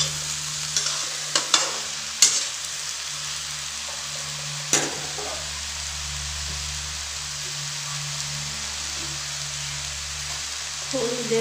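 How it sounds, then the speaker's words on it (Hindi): Spiced ridge gourd curry frying in a pan as it is stirred, a steady soft sizzle broken by occasional spoon clinks and scrapes against a low background hum. "इसे अच्छी तरह से चला लेंगे।"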